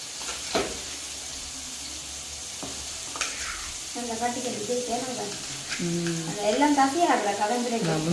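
Ingredients sauté in a pan with a soft background sizzle. Scraping stirs sound from the spatula, and voices talk over the cooking in the second half.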